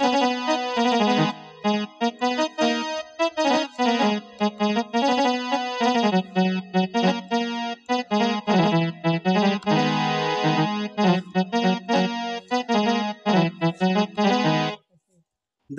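A Casio electronic keyboard plays the melody of a Hindi song with a bright, effect-laden synth tone, a busy run of notes close and loud, ending abruptly in silence.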